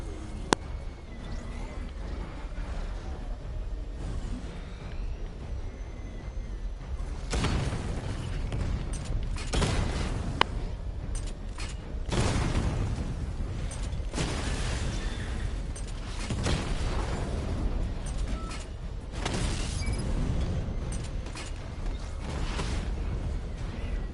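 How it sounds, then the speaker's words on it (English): Missile barrage explosions from the Batmobile in the video game Batman: Arkham Knight, with repeated loud booms and bursts over a constant rumbling mechanical drone, bunched in clusters across the stretch, with some game voice over it. "Charge up Missile Barrage to Level 2 and destroy 4 active targets to complete diagnostic test"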